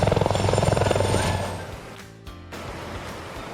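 Helicopter rotor thumping loudly and close over the sea during a spacecraft crew module recovery, a rapid steady chop that fades and drops away partway through, leaving softer rumble.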